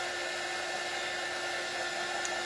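A hair dryer blows steadily to dry paint on a sunflower birdhouse, a loud, constant whirring hum with a faint high whine, running unbroken throughout with no talk.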